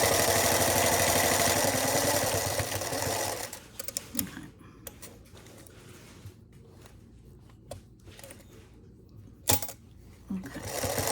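Sewing machine stitching a fabric guinea pig sack, a loud steady motor whir for the first few seconds that then stops, leaving quiet handling noises and clicks.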